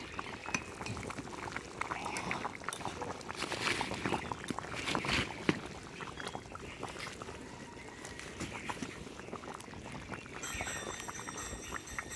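Meat and rice bubble steadily in a pot over a village wood-fired stove, a dense, continuous simmering burble with faint crackle, close and fairly quiet throughout.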